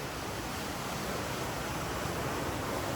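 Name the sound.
old timber water mill's water wheel turning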